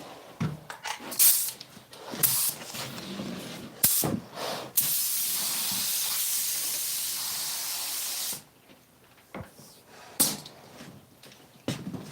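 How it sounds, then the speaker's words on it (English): Spray painting the tires of an 88 Suburban: a steady, loud aerosol hiss runs for about four seconds, framed by scattered clicks and knocks before and after, with no talking. "Don't forget spraying the tire thingies."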